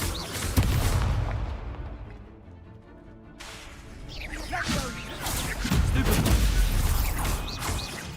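An Expulso blasting spell in a wizard dueling video game lands as a series of booming explosive bursts and crashing impacts, with a sharp crack early, a lull, then heavier rumbling blasts.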